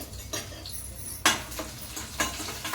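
Cumin seeds, a dried red chilli and garlic fry in sesame oil in a pan, giving a low sizzle punctuated by three or four sharp metallic clinks of a utensil against the cookware.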